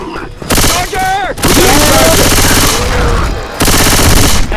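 Loud bursts of rapid automatic gunfire from the zombie shooter Left 4 Dead 2, set in a swamp, with short gaps between volleys and a voice calling out amid the shooting.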